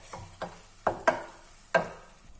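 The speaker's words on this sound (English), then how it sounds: "then just mix those seasonings in to cook it off" Seasonings are stirred into ground meat cooking in a pan for shepherd's pie, giving several soft, scraping stirs at an uneven pace over a faint sizzle, with no talk.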